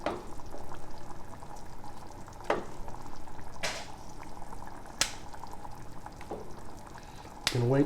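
Frozen food items dropped solid into a pot of water, with a steady bubbling, boiling background broken by several sharp splashes and plops spread through the stretch.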